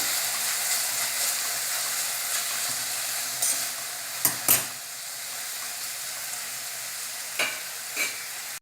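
Radish leaves being stirred with salt in a pan make a steady soft sizzle and scraping, with a few sharper clinks of the spoon against the metal, close and without voices.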